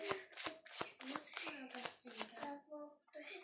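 Small tarot-style romance cards are shuffled by hand in a quick, steady run of crisp riffling flicks, close and fairly quiet, with soft tonal voices mingling in the background.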